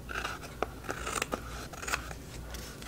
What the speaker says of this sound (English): I will use my scissors to get as closer to the edge as possible.